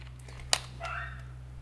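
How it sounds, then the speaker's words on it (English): A dog barks outdoors: one sharp bark stands out over steady low hum, followed by a softer, drawn-out yelp or whine, heard at a moderate distance. "there's a dog outside"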